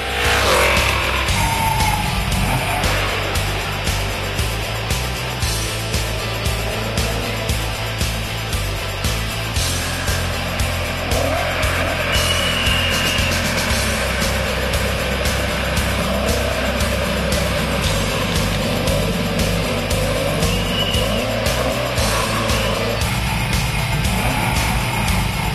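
A vintage Mercedes-Benz race car is driven hard around a circuit, its engine roaring loud and continuous with rising and falling revs and gear changes throughout.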